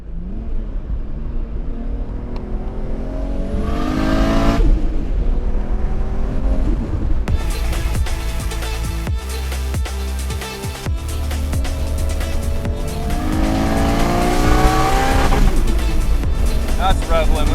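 A modified Nissan Skyline R34 GT-R engine revs hard several times, climbing to a harsh, bouncing rev limiter, loud and close with a rough exhaust note throughout.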